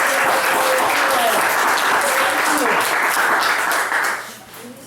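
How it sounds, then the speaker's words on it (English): Room full of people at a 2016 Puna candidate forum in Hawaii clapping steadily and loudly for several seconds before the applause trails off near the end. "Please, let's give her a round of applause."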